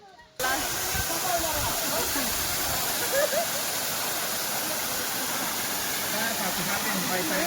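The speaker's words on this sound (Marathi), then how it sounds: "लहान मुलांसाठी लहान धबधबा" A small waterfall on a forest trek near Junnar, heard as a loud, steady, close roar of rushing water that starts abruptly and continues unbroken throughout.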